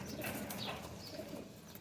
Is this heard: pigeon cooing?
yes